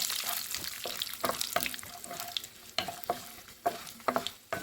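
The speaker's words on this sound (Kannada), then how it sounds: "ಇದನ್ನು ಒಂದು ಸ್ವಲ್ಪ ಫ್ರೈ ಮಾಡ್ಕೊತಾ ಇದ್ದೀನಿ. ಈಗ ಇದಕ್ಕೆ ಕರಿಬೇವಿನ ಸೊಪ್ಪು ಹಾಕ್ಕೊಳ್ತಾ ಇದ್ದೀನಿ." Curry leaves drop into hot oil with frying lentils for lemon rice, crackling and spitting up close, with irregular clicks and scrapes of a stirring spoon against the pan.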